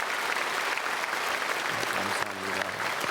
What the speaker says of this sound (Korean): 우리 크게 박수로 환영하도록 하겠습니다